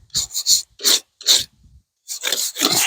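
Forge scale being scraped off a hot steel spring fuller, heard as a close series of harsh rasping strokes in uneven bursts with short pauses between them.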